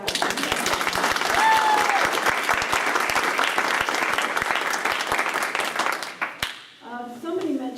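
An audience at a school board candidate forum breaks into a dense round of applause and clapping that fills most of the moment, then fades out as a voice begins talking.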